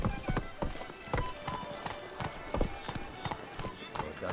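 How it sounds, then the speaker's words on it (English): Hoofbeats of a horse in The Witcher video game clop in a steady, quick rhythm at moderate distance, with a voice speaking over them. "Whoa there, Roach"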